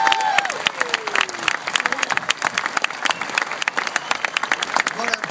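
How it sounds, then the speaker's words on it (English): Crowd applause at the 2011 Presidents Cup golf event, a dense, sustained patter of many hands clapping, with a voice briefly speaking over it at the start. "a collective round of applause for the United States of America"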